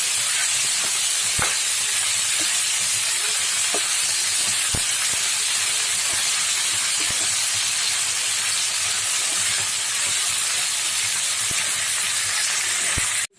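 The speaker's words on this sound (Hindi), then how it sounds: "अब इसी पैन में मैंने कैरेट सभी वेजिटेबल्स को डाल दिया है। मैं इनको अच्छी तरह भून लूँगी।" Carrots and mixed vegetables fry in a pan with a continuous, close sizzling hiss, broken by occasional sharp pops and crackles, and no talking.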